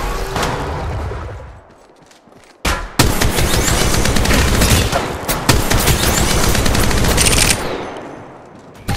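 Gunfire in Apex Legends Mobile: loud rapid automatic weapon bursts, a brief lull, then a long sustained stream of shots with sharp individual cracks mixed in, close and dominant throughout.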